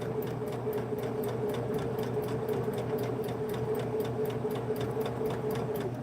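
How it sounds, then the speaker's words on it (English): A home sewing machine stitches a scant quarter-inch seam along the length of fabric for an outdoor clothespin bag, running in a steady, even whir with fast rhythmic needle ticks throughout, close and alone. "I'm going to sew all the way to the end and then turn my fabric and sew across the other end"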